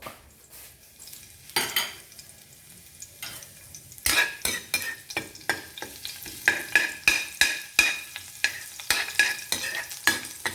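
Garlic sizzles in hot oil in a pan while a ladle scrapes and stirs it in a quick run of sharp, close metallic strokes over a steady frying hiss, with no talking.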